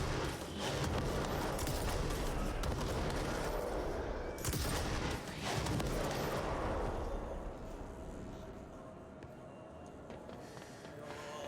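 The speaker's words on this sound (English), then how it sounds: "Fireworks." Fireworks in the video game Control, a dense barrage of crackling bursts and booms that fills most of the stretch, then thins and fades toward the end.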